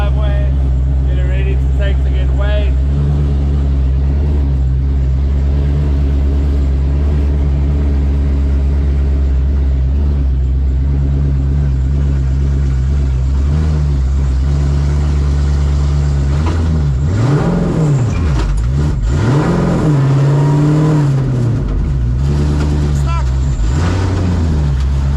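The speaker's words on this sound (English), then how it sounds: "They're pulling the car out of the driveway, getting ready to take to get weighed." A car's engine runs as it is pulled out of a driveway before being taken to be weighed, giving a close, continuous low rumble that swells and dips with revs over roughly twenty-five seconds.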